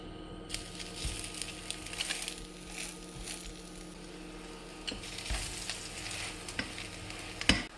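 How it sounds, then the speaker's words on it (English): Fish cakes of coalfish fry in oil over medium heat, giving a steady close sizzle with scattered crackles and a few sharper pops, one loud near the end. "So it's now time to fry the fish cakes."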